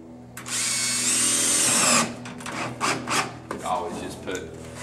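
A power drill runs in a steady, loud whir, then stops for a series of shorter bursts and scrapes as screws are driven into wood while building a storage shed.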